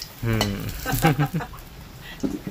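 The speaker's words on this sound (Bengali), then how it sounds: "পনিরটা দেখো এরকম ভাজা হয়ে গেছে হালকা করে" Paneer frying lightly in hot oil for a pea paneer rice dish gives a close sizzle with stirring scrapes, while a voice talks over the cooking.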